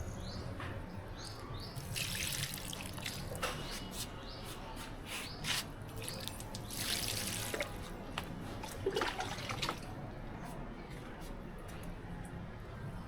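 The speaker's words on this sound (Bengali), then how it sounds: "পানি দিয়ে দিচ্ছি।" Water poured onto a rose plant in a home garden, a steady splashing and trickling stream running throughout at moderate loudness with faint outdoor insect sounds behind it.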